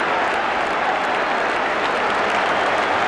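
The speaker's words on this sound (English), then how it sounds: "Good deserved applause for a nicely built attack." Steady applause from a large football crowd at a Middlesbrough match, continuous and fairly even throughout, heard at a distance like a stadium audience clapping.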